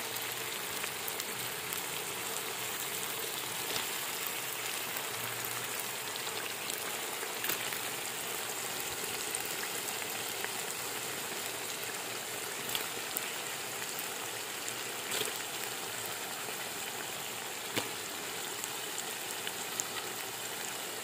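Pieces of fish sizzle in hot masala in a pan while cooking a fish karahi. A steady, close frying hiss runs throughout, broken by occasional faint pops.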